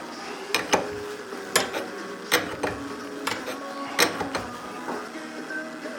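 Power steering hose nut being screwed onto its fitting by hand, giving a string of light, irregular metallic clicks and scrapes close by, with no talk.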